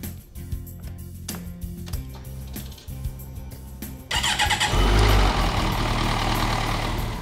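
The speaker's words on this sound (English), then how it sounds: "we're going to start the engine again. We're going to let it warm up some more. We're going to let it idle for a few moments" A powersport vehicle engine sits quietly through a few clicks and ticks, then cranks and catches, settling into a loud, steady idle close by.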